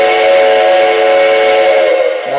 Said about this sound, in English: That's the whistle again.